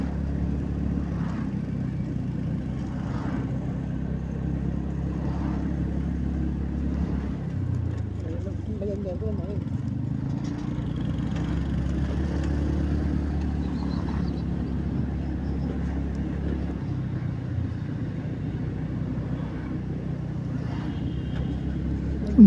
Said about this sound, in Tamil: எவ்வளோ டிராஃபிக்கு.